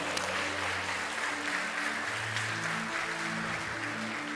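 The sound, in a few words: church congregation applauding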